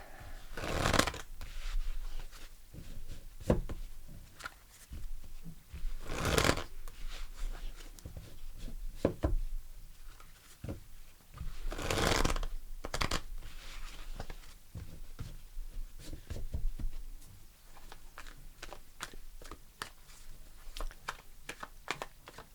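Tarot cards shuffled by hand in a run of crisp riffling bursts and soft flicks, close and fairly loud, with no talking.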